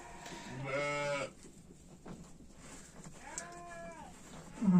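Two drawn-out sheep bleats from a ewe that has just given birth to twin lambs, one loud and close, a second fainter and wavering, over quiet rustling background.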